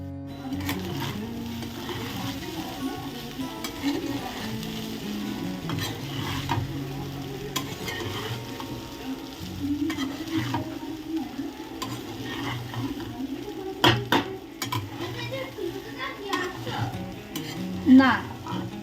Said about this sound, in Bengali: আমি টাটকা ভাতে ভাত ভাজা করতে বেশ ভালোবাসি